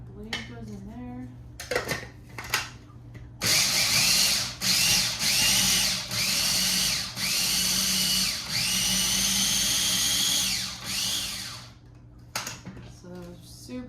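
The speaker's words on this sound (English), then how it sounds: "So super easy with a little food processor to make this finely chopped broccoli slaw." A small food processor whirs in several bursts, finely chopping broccoli into slaw; the loud motor pulses start and stop with brief pauses between them, close by in a kitchen.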